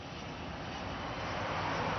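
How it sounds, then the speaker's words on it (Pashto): A helicopter engine starting up makes a steady, loud, broadband turbine roar that swells slightly as it runs. It plays alone, with no voices. "هلیکوپټر روښانه شو"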